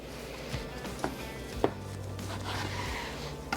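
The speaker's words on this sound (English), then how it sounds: "let's take a slice of the lean and see how that looks" A knife cuts through lean smoked Texas-style brisket from a pellet grill, giving a few soft, quiet knocks and slicing strokes against a cutting board.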